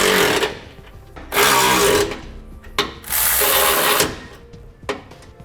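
A 9/16 socket on a ratchet or impact tool tightens nuts on the bolts of a Firestone Ride-Rite air helper spring setup on a 2016 Ford F-150, sounding as three loud, close mechanical bursts separated by short pauses.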